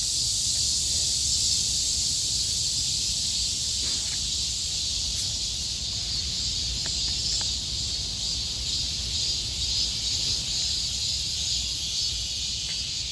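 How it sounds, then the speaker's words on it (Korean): Dense, continuous chorus of crickets chirping in a park, a high shimmering drone that fills the background steadily for the whole stretch, with no talking. "뭐 귀뚜라미 우는 소리가 많이 들려가지고"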